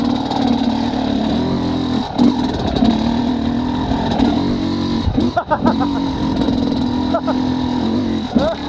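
Motorcycle fitted with a SmartCarb SC2 carburetor pulling in second gear without the clutch, engine droning steadily near and loud as revs rise and dip, with brief rattles midway and a voice talking over it.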